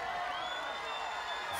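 A home crowd of 7,000 at a strongman event in Quebec, Canada, cheers on a world record lift attempt, producing a steady, distant roar with high whoops over a broad wash of noise.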